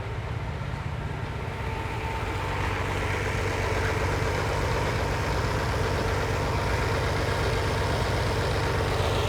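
Lamborghini 350 GT engine idling steadily during a mixture adjustment, a close, continuous low hum with a smooth, even tone, growing slightly louder about a third of the way in.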